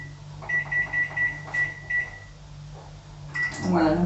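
Microwave oven keypad beeps as the power is set to 360 watts for melting chocolate and butter: a regular run of about eight short electronic tones, then a pause and a final louder cluster with clatter.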